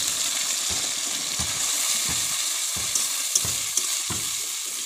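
Spice paste sizzling and frying in a pan with already fried onions, a steady loud hiss with occasional stirring knocks, alone without talk.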